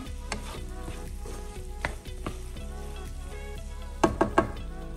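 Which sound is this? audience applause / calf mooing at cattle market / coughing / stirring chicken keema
stirring chicken keema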